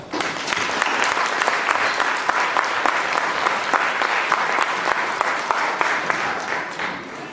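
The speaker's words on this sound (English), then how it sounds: "Please, let's give them a round of applause." Sustained audience applause at a Togo independence anniversary celebration, a dense steady clatter of many hands clapping for the full stretch before tapering slightly at the end.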